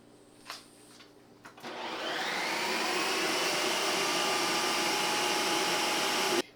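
A Ninja Creami ice cream maker starts up after a few small knocks and then runs with a loud, steady motor whir that holds for several seconds before cutting off.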